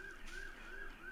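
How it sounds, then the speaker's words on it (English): A siren wails past outside an apartment, heard faintly and distantly in a brief rising-and-falling sweep with no talk over it. "I don't know if you can hear it, but there's sirens going by"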